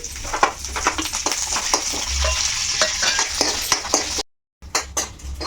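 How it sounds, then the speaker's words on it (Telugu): Dried red chillies, mustard seeds and cumin crackle and sizzle in hot oil while a spoon stirs and scrapes the pan, loud and close, with a brief silent break near the end. "ఇక ఆయిల్ అయితే కాగిపోయింది ఇప్పుడు అందులో ఎండుమిర్చి ఆవాలు జీలకర్ర కనుమాకు చేస్తే వేయించేసుకుంటున్నాను"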